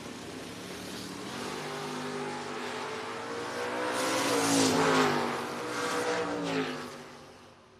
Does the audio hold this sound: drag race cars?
yes